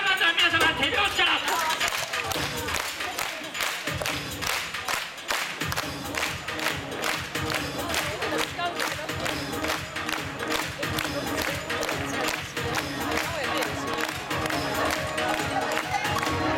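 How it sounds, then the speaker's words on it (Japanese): An audience claps in steady rhythm along to a group dance by a samurai warlord performance troupe at a festival event at Centrair. The clapping is dense and sustained over music, with crowd noise. "さあ、まずは皆様手拍子から。"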